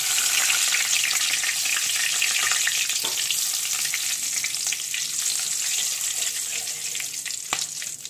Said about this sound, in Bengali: এবার আমি ফোড়নটা তেলে দিয়ে দেবো।